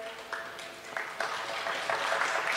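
Scattered clapping breaks out among the audience at a women's luncheon, starting with a few separate claps and building into fuller, steadier applause over a couple of seconds.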